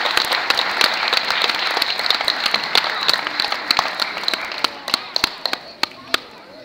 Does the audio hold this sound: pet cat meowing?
no